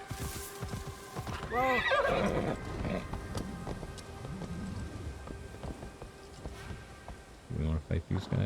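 A horse in the video game Assassin's Creed Shadows gives a loud, wavering whinny early on, followed by intermittent hoof clops, with a burst of close clip-clopping steps near the end over a soft ambient bed and occasional talk.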